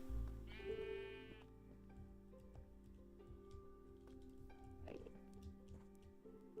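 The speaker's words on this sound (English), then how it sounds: "The sheep wants to escape." A sheep in Minecraft bleats once in a wavering cry early on, heard over a quiet background of steady game tones and small ticks.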